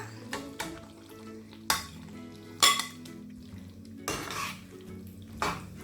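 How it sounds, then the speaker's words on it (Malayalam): A spoon clanks against a pan in several separate strokes as half-cooked chicken is stirred into a jaggery-sweetened Mangalorean ghee roast gravy, with a faint sizzle underneath. "നന്നായി ഇളക്കി മിക്സ് ചെയ്ത് കൊടുക്കുക"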